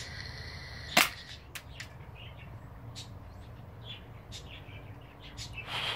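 A BB gun fires once at a phone screen outdoors: one sharp, loud crack near the start, then quieter ambient sound with faint bird chirps scattered through the rest.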